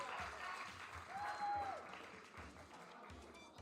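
Steady applause from an audience at a Splatoon 3 LAN tournament grand finals fills the clip, dense clapping that holds at an even level throughout.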